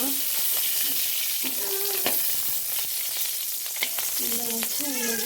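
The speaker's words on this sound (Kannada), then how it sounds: "ತೊಳೆದು ಸ್ವಲ್ಪ ಎಣ್ಣೆ ಹಾಕುವ ಇಲ್ಲಿ ಗ್ಯಾಸಲ್ಲಿ ಸ್ವಲ್ಪ ಎಣ್ಣೆ ಹಾಕುವ" Oil heating in a pan on a gas stove, sizzling in a steady, close frying crackle from start to finish, with a voice talking intermittently over it.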